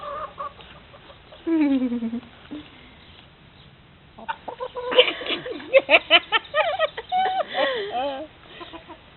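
Several chickens cluck and squawk nearby in quick, rapid bursts, growing busier and louder toward the end, with a softer call earlier on.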